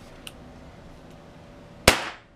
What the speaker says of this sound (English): Now you can fire the gun.